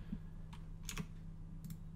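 Typing on a computer keyboard while adjusting a document in Word, a few soft keystroke clicks at a quiet desk over a low steady hum, with no talking.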